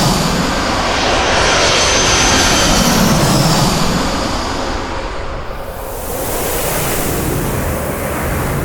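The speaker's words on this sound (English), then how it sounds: "This is a Thai Airbus A350 in from Bangkok." Thai Airways Airbus A350 jet arriving from Bangkok, a steady loud roar of engines with broad wind-like rush that swells and fades slightly as the aircraft passes, no voices.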